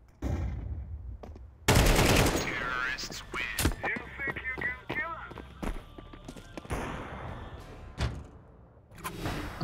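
Gunfire in Counter-Strike on the Mirage map, loud rapid bursts and sharp single shots cutting through a busy game mix, with voices talking over much of it.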